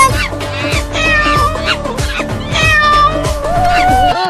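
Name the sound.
cat meowing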